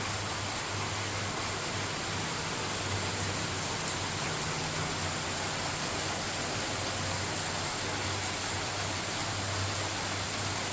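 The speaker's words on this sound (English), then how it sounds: "10 minutes later, you have a rainstorm." Steady rainfall from an afternoon rainstorm hisses evenly outdoors, a dense continuous wash of drops at moderate volume with no voices.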